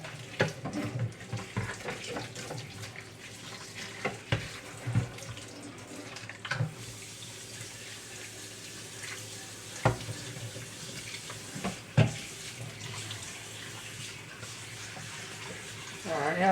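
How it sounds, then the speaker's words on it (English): Tap water running while a mud-covered instrument cluster from a flooded car is rinsed, a steady splashing flow with intermittent knocks and clatters of handling, fairly quiet and close. "A little more water pressure going here."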